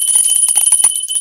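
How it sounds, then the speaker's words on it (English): A small handheld bell rung to clear the mind, giving a quick series of bright metallic tinkling strikes, close and loud, with no talking. "And so I'll pull out my bell"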